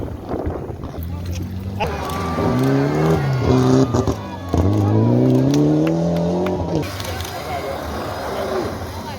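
A rally car on a dusty dirt stage at Yamoussoukro during the Côte d'Ivoire Bandama rally approaches, its engine swelling loud with repeated revs and gear changes before fading, with crowd noise and wind around it.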